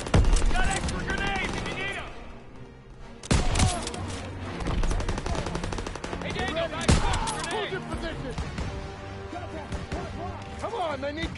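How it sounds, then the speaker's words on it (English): Gunfire and machine-gun fire in the video game Call of Duty WWII hammer out in loud, dense bursts with heavy booms, while shouted voices cut through the battle noise. "Suppressive fire. Keep firing."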